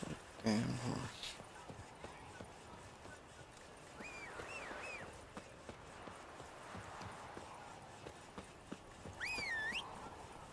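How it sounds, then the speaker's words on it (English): Horse hooves clip-clop steadily at a walking pace in The Witcher video game, fairly faint beneath quiet ambient sounds and occasional birdlike calls. "There's a damn horse."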